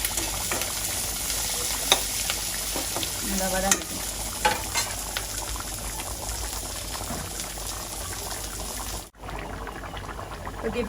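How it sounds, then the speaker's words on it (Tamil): Onion, green chilies and curry leaves frying in a pan, a dense, continuous close sizzle with occasional clacks of a stirring spoon, steady throughout before a brief sudden dip near the end. "இப்போ வந்து வெங்காயம் போடுவேன் வெங்காயம் பச்சை மிளகா கருவேப்பிலை ரொம்ப எல்லாம் போடுவோம்"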